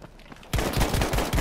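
A gun fires rapidly in Battlefield 5, starting as a sudden loud burst of close shots that continues in quick repeated cracks after a quieter lead-in.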